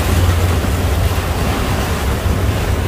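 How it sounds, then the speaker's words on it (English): Choppy sea waves at a beach in Kuwait, a steady loud wash of surf with strong low rumble and wind noise on the microphone, continuous throughout with no talk. "The waves are coming close."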